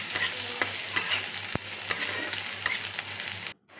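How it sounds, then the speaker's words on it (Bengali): Chopped ginger and garlic fry in a pan while a spatula stirs them, making repeated scraping strokes over a steady sizzle. It is close and fairly loud with no voices, then cuts off abruptly near the end. "এবার আদা কুচিটা দিয়ে আবারও নেড়ে চেড়ে নেব"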